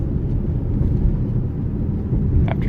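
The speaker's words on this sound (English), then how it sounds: "So this car is getting a workout today" A car being driven gives off a steady, loud low rumble of engine and road noise from inside the cabin, continuous and without a break.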